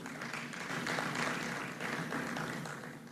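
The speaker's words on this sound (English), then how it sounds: "Let's give him a round of applause." Round of applause from a conference audience at a Ugandan economic policy event, a faint, steady sheet of many hands clapping with a slight swell in the middle.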